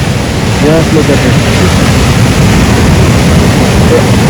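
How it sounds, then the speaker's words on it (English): Sea surf rolls steadily onto a beach on the Odisha coast near Gopalpur, a loud continuous wash mixed with wind buffeting the microphone while someone speaks briefly over it. "you can really hear the sound of the sea"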